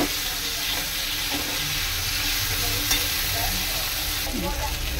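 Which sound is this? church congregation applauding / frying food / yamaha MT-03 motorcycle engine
frying food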